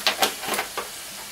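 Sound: milk being stirred into a flour and margarine sauce

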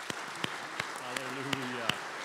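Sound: church congregation clapping hands in praise

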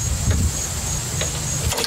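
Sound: lawnmower engine firing and kicking back on pull cord

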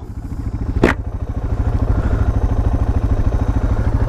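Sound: motorcycle engine running

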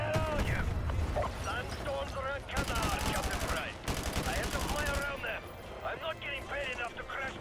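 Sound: gunfire in the video game Modern Warfare 2

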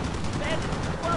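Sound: machine gun fire from the video game B-17 The Mighty 8th

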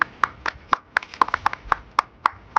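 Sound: applause for the second-place prize winner

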